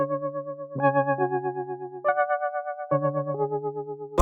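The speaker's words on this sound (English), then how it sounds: "we just came into Omnisphere and chose this analog tremolo piano out of the keyboard section." Omnisphere analog tremolo piano patch plays a short melody of sustained chords, each pulsing with a fast, wobbling tremolo, clean and prominent with no voices.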